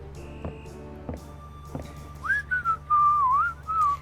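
A person whistles a wavering, sliding melody in the Gabriel Knight point-and-click game, starting after a few soft clicks and thumps and growing louder in bursts over the last two seconds.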